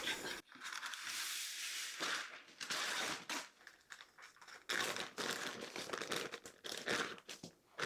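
Parchment paper crinkles and crumples almost continuously as it is handled for baking dough in a home kitchen, close and fairly loud with sharp rustling bursts and brief pauses, no talking.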